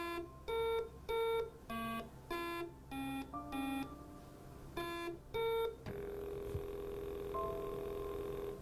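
Simon electronic memory game sounding a run of distinct beeping tones in a rhythmic sequence, then a sustained harsh buzz signalling a wrong button press, loud and close with no talking.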